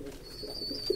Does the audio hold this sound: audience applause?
no